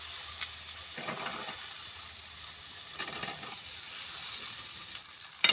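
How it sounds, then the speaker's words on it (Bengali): Bean seeds sizzling and frying in a pan with turmeric and chili powder, a steady close hiss with a few stirring swells, no talk. "এখন আমি সিমের বীজগুলো দিয়ে দিচ্ছি"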